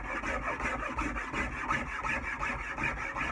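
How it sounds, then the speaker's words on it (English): A rasp scrapes back and forth over a wooden tool handle in steady, close strokes, each pass a rough, gritty rub repeating at an even rhythm with no voices over it. "So when you rasp out any of those digs that you took out when you went against the grain"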